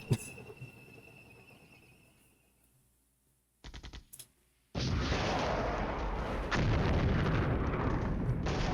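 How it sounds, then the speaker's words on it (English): Heavy artillery fire booms in a NATO wargame video game, a short burst followed by a sustained, loud roar of shelling and blasts. "Alright, now this is artillery I didn't want to see."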